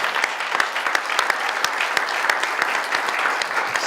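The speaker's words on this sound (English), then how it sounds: "let's give applause to Doug for giving me this." An audience at a talk on the history of the Henderson Fire Department applauds Doug, a full, continuous round of clapping with scattered sharper individual claps close by, alone without speech.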